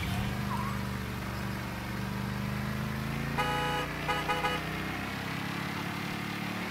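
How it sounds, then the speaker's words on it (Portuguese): City car traffic in the video game Mafia 3 gives a steady engine rumble, and a car horn honks in a few short blasts partway through. "Agora bastante movimento de carro"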